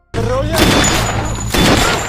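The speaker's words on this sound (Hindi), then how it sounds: "लेकिन जिन लोगों से डॉक्टर बात कर रहा होता है वो लोग उस पर गोली चला देते हैं।" Gunfire rings out in a film scene as people shoot at a doctor: two loud, broadband bursts of shots, one near the start and another about a second and a half later, with a dense noisy backdrop in between.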